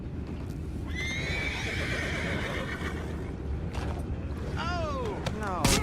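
Several horses neigh and whinny amid clip-clopping hooves in Red Dead Redemption 2, with rising and falling whinnies midway and near the end over a steady background of hoof and outdoor noise.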